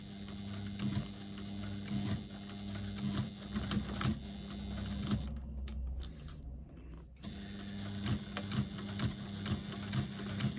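A sewing machine stitches through fabric held under its needle, a steady mechanical whir with rapid rhythmic clatter that runs most of the way, briefly pausing midway before resuming.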